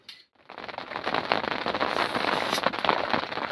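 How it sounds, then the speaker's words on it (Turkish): Rain begins pattering on surfaces at a spring campsite, starting after a brief near-silent moment and then continuing as a steady, close crackling patter. "Yağmur başladı."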